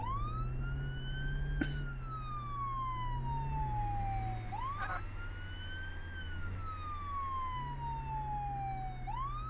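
Police siren in the video game Flashing Lights, a long rising and falling wail cycling slowly and loudly over a steady engine drone, with a couple of brief clicks along the way.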